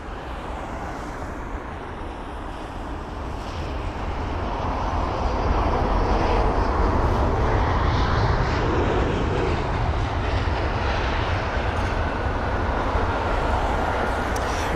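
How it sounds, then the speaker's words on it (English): An airliner arriving on the runway at London Heathrow gives a broad, steady jet roar that swells after the first few seconds and holds loud and close to the end. "this aircraft is pretty much on the runway now"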